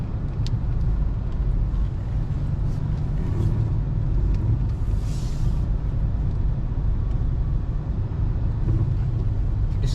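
Cars driving past on a road near a Walmart exit in the DC area, a continuous low rumbling traffic wash with passing vehicles, fairly close, no talk.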